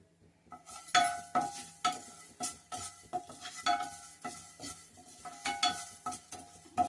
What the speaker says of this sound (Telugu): లైట్గా ఒక చుక్క ఆయిల్ వేసుకొని మెంతులు వేయించుకోవాలి